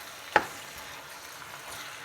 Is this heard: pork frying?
yes